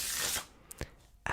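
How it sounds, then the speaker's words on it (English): Playing cards ripple-shuffled during close-up card magic: a quick loud fluttering riffle, then a few soft taps and a final card snap, with no talking. "my favorite shuffle is the Ripple Shuffle because of how nice it looks"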